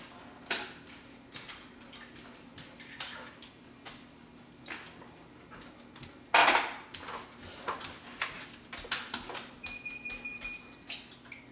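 Eggs cracked one at a time against a bowl rim for a sour cream coffee cake batter, giving sparse sharp taps and clicks with a louder knock midway, in a quiet kitchen.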